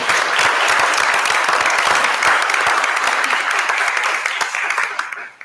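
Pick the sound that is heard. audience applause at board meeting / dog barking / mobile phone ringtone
audience applause at board meeting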